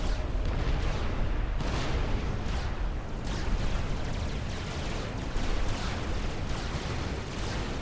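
A power detonate explosion in Supreme Commander 2 during a 1v1 match, a dense roaring blast with rolling booms filling the whole stretch, loud and sustained.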